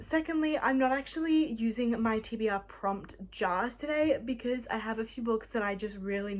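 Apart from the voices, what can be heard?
No distinct noise like a dog, phone or traffic.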